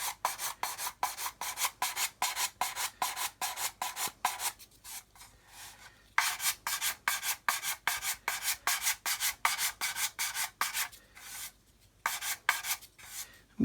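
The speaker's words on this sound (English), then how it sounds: "So again, 220 stick, just go across the top. Just sand and blend" Hand sanding with 220 grit sandpaper across the top of a rear section, a fast rhythmic back-and-forth rasp of strokes with a brief pause midway, close and alone.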